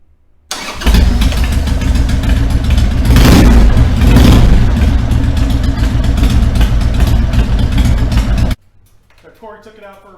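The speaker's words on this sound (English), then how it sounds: "then Cory's gonna start it up, take it for a spin" 2001 Harley Davidson 1200 Sportster engine cranks and fires up close by, then a loud rumbling idle with a couple of sharp revs before it cuts off, a voice following briefly.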